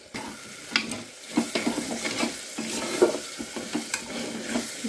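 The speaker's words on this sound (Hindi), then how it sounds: "इसको थोड़ा भून लेंगे।" Ground spices for Punjabi-style chhole (coriander powder, chhole masala, garam masala, meat masala) roasting in a pan, with steady sizzling broken by repeated scraping stirs of a spoon against the pan, close and moderately loud, no voices.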